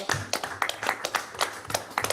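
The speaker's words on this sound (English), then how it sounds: "round of applause for the milkmen." Scattered hand claps from a small audience at a city council meeting, a short, uneven round of applause with individual claps distinct and close.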